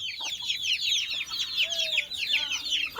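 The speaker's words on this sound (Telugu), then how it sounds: "చూడండి ఫ్రెండ్స్ కోడిపిల్ల ఎలా ఉన్నాయా" Chicks peep and hens cluck close by, a busy stream of high chirping and short clucks repeating throughout, with no one talking.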